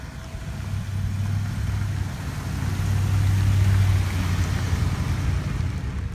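A motorboat engine drones steadily with a low rumble, water rushing alongside, no talking.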